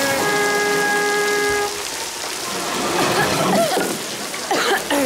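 Steady rain falls outdoors in a continuous hiss, with a sustained horn-like tone early on, splashy bursts later and voices talking in the scene.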